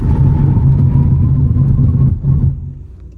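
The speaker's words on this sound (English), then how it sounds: "the braking was very good. The acceleration is underwhelming." A Škoda Fabia 1.0 TSI with a 110-horsepower engine accelerates and then brakes to a stop, a loud, steady low engine and road rumble heard from inside the car that fades away as it slows.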